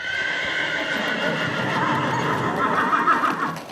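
Horses neigh and whinny amid a cavalry charge reenactment at Sant Ferran castle in Figueres, with hoofbeats and continuous crowd-like commotion throughout, loud and sustained.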